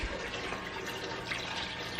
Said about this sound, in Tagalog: Gusto ko siya lagyan konti ng tubig para hindi talaga siya pure